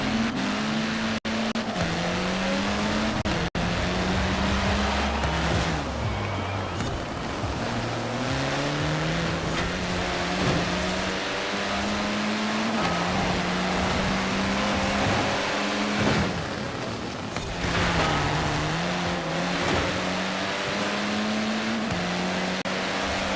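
Race car engines in a Forza Horizon race, alongside rival Jaguars, roaring loudly and continuously with repeated pitch climbs through the gears and a few drops when lifting off, with no talk.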